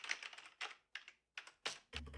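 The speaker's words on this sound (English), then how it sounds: "Typing away and slamming the keyboard at times, just trying to get it done." Computer keyboard typing in the intro of a music track, with irregular bursts of clacking keystrokes separated by short pauses and a heavier thump at the end, close and clear with no voices.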